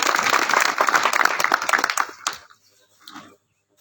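Crowd applause at a public gathering, loud, dense clapping for about two seconds, then fading out with a few scattered claps.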